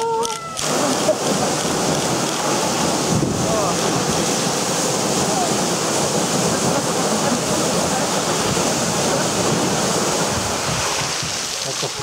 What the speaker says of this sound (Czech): Tak tady ze zhora budete mít vodopád